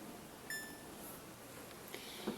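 Timer buttons pressed on a cooking appliance while making potato bites, a short high electronic beep followed by a couple of fainter blips and a tiny click near the end, quiet over low room hum.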